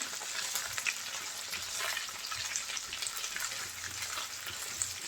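Pangas fish pieces fry in a pan, a fine, fairly faint crackling sizzle that runs steadily, with light stirring scrapes now and then and no voices.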